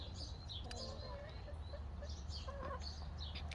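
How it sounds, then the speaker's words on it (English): Chickens cluck and call in the background, soft and scattered, over a steady low hum. "I hear the chickens in the background."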